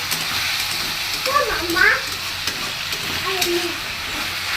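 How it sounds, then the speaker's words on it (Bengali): Potatoes and onions frying in a pan for pasta give off a steady, loud sizzle, broken by a few brief stirring sounds, while a voice is faintly audible underneath. "এখন পাস্তার জন্য আলু আর পেঁয়াজ ভাজা বসিয়ে দিয়েছি অলরেডি"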